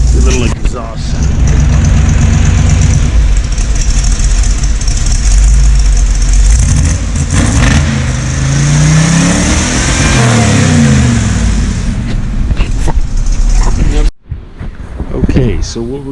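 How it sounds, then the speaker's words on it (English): A cammed Ford 351 Windsor V8 on a cold start, its exhaust a loud, close, lumpy rumble that swells and dips through revs before cutting out abruptly near the end, then briefly restarting. "A little exhaust sound."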